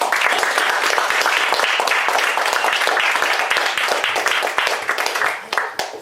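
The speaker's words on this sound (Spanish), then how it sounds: "os pido un aplauso para él" An audience at a book presentation in the Círculo de Bellas Artes claps loudly and continuously, a dense wash of many hands that thins toward the end, with a little talk mixed in.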